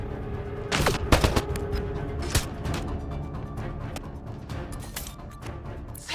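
Sci-fi gunfire in the video game Mass Effect: Andromeda: rapid bursts of shots and sharp cracks ring out repeatedly over a busy combat backdrop, several loud reports standing out early, with no talking.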